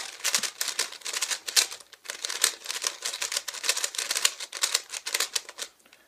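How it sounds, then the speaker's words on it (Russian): A freshly lubricated Rubik's cube being twisted by hand, giving a steady run of close, crisp plastic clicks and clacks that continues for several seconds with brief pauses. "вы должны будете немного покрутить этот кубик, чтобы вся смазка распределилась по всему кубику полностью"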